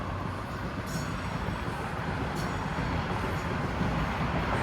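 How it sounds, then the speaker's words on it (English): A Toronto subway train rolls past in North York at rush hour, a steady, loud broadband rumble holding throughout with a few brief high squeals of wheels on rail. "And it is rush hour. Here comes a subway train."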